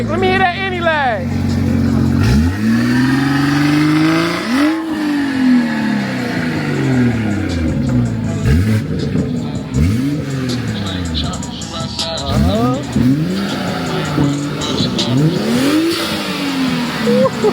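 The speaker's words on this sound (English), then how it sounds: "Let me hear that anti-lag real quick." Tuned car with anti-lag revs hard again and again, its engine pitch sweeping up and down, with sharp crackles and pops between revs, loud and close, while people talk over it.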